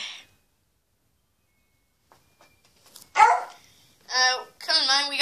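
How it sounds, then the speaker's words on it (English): A dog barks a few times near the end, loud and close, with short harmonic bursts after a quiet stretch, and a faint earlier yelp at the very start. "Moby, what are you barking at? Why are you barking?"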